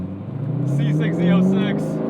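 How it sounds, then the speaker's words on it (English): A modified Corvette C6 Z06 V8 idles roughly with a low, lumpy, uneven engine rumble close by, while someone speaks over it. "just from that rough idle, you can tell this is no stock"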